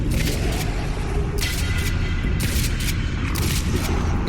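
Shotgun blasts from Fallout 4 gameplay, roughly four heavy booming shots spaced about a second apart over a constant loud rumbling game backdrop.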